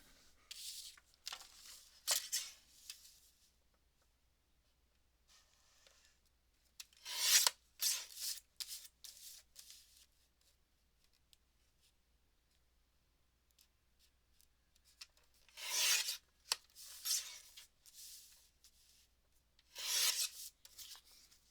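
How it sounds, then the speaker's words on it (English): Scissors snip and rasp through a printed paper image being trimmed for a handmade card, in several short bursts of cutting separated by quiet pauses, close and crisp with no talking. "I'm gonna trim this image down."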